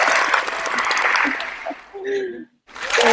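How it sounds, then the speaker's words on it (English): A round of applause during a TV interview gives a dense burst of clapping for about two seconds, then thins out into a few brief tonal sounds before cutting to a moment of silence. "that deserves a round of applause"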